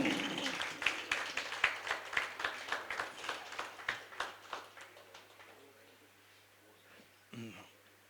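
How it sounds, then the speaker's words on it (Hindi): At a book launch event an audience claps in a burst of applause that gradually thins and fades out, with voices heard faintly near the end. "जोरदार तालियां होनी चाहिए"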